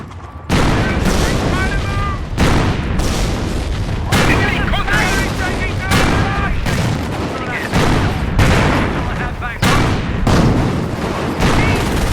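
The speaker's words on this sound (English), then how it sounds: "We are taking fire here." Gunfire and artillery from the Company of Heroes video game form a loud, rapid series of booming blasts and crackling shots, each burst followed by short pauses, with game voices coming through under the explosions.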